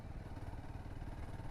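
A motorcycle rides along a scenic green mountain road in hill country, its engine droning steadily and faintly with rough low rumble and wind, no talk.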